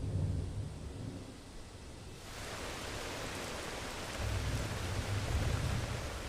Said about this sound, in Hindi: बारिश सवाना को पूरी तरह बदल देती है।